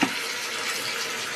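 Hot water pours steadily from a tap into a bath, a loud, continuous gushing splash that holds evenly throughout with no speech over it.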